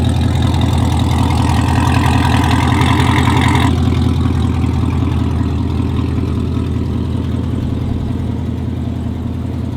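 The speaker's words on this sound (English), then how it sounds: "Just listen to that idle." A Chevrolet Corvette C7 Z06 engine idling up close, a loud, steady, deep burbling rumble with a high whine on top for the first few seconds, then settling to a smoother drone.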